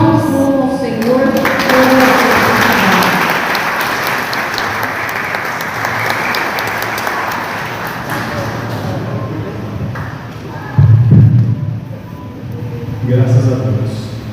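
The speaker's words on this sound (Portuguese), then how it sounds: "As palmas louvam ao Senhor." Church congregation applauding loudly and steadily for several seconds, the clapping fading toward the end as a voice speaks over it near the close.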